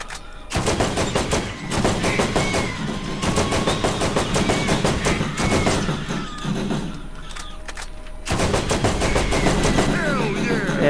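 Rapid bursts of gunfire from a gun in Borderlands, loud clustered shots in several runs separated by short pauses, with game effects and some speech mixed in.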